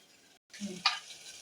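A brief burst of sizzling and crackling as mustard seeds and urad dal hit hot oil for tempering, close and moderately loud after a short pause.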